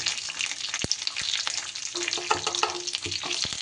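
Dry red chillies and curry leaves frying in oil for a South Indian raw mango rice, giving a continuous close crackling sizzle with occasional spoon taps and stirring scrapes, no voices.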